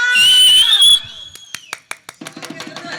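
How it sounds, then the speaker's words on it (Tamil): Whistling from an audience at a Tamil village stage drama in Orathanadu, one long shrill whistle near the start, then a quick run of sharp clicks and short bursts. "அப்படியே இந்த விசில் அடிக்கிற குரூப்ல முன்னாடி வாங்கப்பா"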